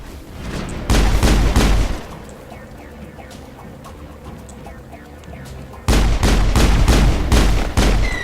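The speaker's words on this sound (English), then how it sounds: "Am I still using a pistol? Holy crap, this thing makes a loud noise." Loud bursts of pistol gunfire from the video game Mass Effect, two clusters of rapid shots about a second long each, separated by a stretch of quieter in-game background noise.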